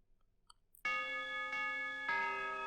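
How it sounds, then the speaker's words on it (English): A bell rings out clearly, struck twice more so three resonant, ringing tones with long sustain follow a quiet stretch, sounding moderately loud. "In the distance, the bell rang."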